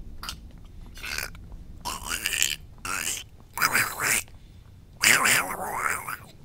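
A voice imitating Donald Duck's quacking speech comes in several short, raspy, squawking bursts separated by brief pauses, close to the microphone, with no other sound.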